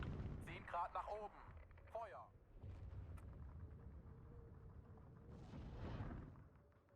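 Artillery fire in the WWII strategy game Steel Division 2 thuds in the background of a Vistula campaign battle as a low, muffled rumble, mostly buried under someone talking throughout.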